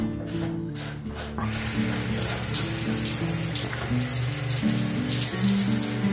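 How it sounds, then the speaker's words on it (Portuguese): A home shower runs after its heating element was replaced, a steady hiss of falling water close up, with a low tonal hum or music underneath and no talk. "Aí agora meu chuveiro já tá funcionando."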